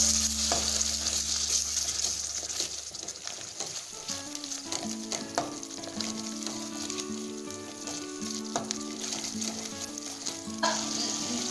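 Rohu fish curry with mustard paste and a splash of water sizzles steadily in a pan while being stirred, with scattered scrapes and taps of the utensil over a constant frying hiss.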